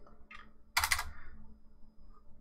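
Brief burst of computer keyboard typing while editing a configuration for a BTT Octopus V1.1 3D printer board, a short cluster of close clicks, alone with a faint hum beneath.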